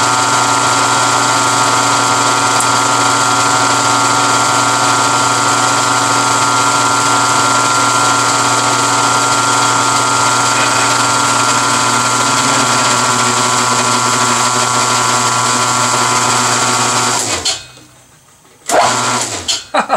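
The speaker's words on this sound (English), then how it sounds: "Now it's the belt slipping." A power tapping machine with a slipping drive belt, cutting threads for 13-inch brakes with anchor lube, runs as a loud, steady mechanical drone and hum, then cuts off abruptly near the end with a few brief bursts.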